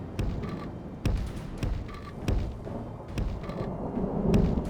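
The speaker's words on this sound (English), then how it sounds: "Rain starts to pour down." Rain and rumbling thunder fill a video game battle scene, with heavy low booms and sharp cracks repeating about once a second over a steady wash of rain.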